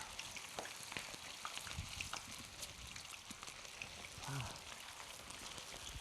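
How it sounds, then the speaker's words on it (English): Food sizzles and crackles steadily in a hot pan, a dense bed of popping and hissing with small bumps of stirring. "When you hear the sizzling noises, you know you're making some good stuff here"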